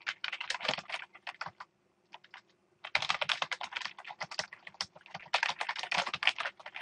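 Rapid, close typing on a computer keyboard in irregular bursts of clicky keystrokes, with a brief pause before the typing resumes steadily, and no talking.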